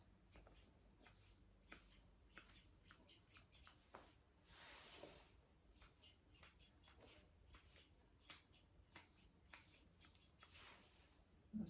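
Grooming scissors snip a poodle's top knot in quick, irregular bursts of crisp metallic clicks, close and fairly quiet, with no talking.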